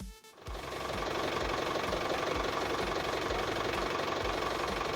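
A tractor engine, running again after a battery problem that kept it from starting, catches and settles into a steady, close, rumbling idle with a faint knocking pulse, alone without speech.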